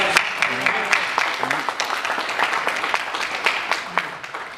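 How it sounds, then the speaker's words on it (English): An audience claps for a presenter at an early-film Vitaphone soundtrack talk, a steady patter of many hands in a moderately sized room that gradually thins out. "let's give Matthew Barton a round of applause"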